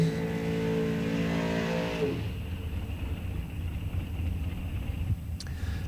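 Drag race cars at an ET series event launching off the line, a loud sustained engine roar that cuts off abruptly to a lower rumbling fade as they pull away, with no talk.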